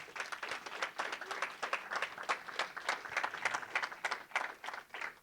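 A conference audience at a talk on the health of executives and independent professionals claps for a short stretch, fairly faint individual hand claps in a loose, uneven rhythm rising and falling, without voices.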